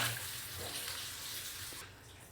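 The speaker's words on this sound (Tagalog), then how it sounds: "Bigyan natin ng tubig." Water poured from a container into a cooking pot of miso soup seasoned with fish sauce, a steady broadband splashing stream running nearly the whole time and tapering off near the end, close and alone.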